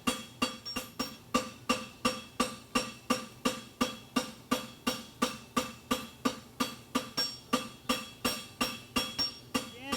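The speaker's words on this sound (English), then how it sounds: "I'm going to come in with the edge of my hammer" A blacksmith's hammer strikes a horseshoe in a fast, steady rhythm, about two ringing blows per second, close and clear with a bright clink.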